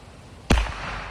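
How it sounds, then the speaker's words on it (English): A firework mounted on a glider goes off in a single sharp, loud bang, followed by a brief rushing tail of noise. "This one went pretty far and it exploded at the end."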